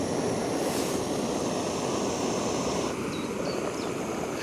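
A steady roaring hiss of a burning gas canister camping stove with a lid on, constant and close, with faint wind-like rushing and a few light clinks near the end.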